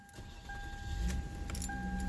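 Keys jangle as the ignition key of a 2003 Toyota Camry with a battery-drain fault is turned, then a low engine cranks and starts close by, settling into a steady idle for a couple of seconds with no talk.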